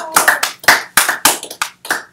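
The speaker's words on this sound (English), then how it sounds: "Yes, we can clap." A few hands clap in a small live-streamed school gathering, about eight distinct, close claps in an uneven rhythm.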